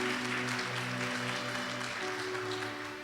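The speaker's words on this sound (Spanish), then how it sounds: "Aplausos al Señor." Congregation applauding during a church sermon, steady dense clapping heard at a distance with a sustained musical hum underneath, no talk.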